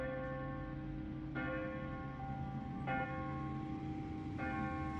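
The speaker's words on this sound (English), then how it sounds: "I hate the bells." Campus bells ring out at a steady distance, three or four resonant strikes spaced about a second and a half apart, each ringing on with long overtones over a low background hum.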